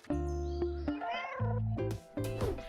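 A cat meows several times in a row, loud and close, with drawn-out, wavering cries and short pauses between them.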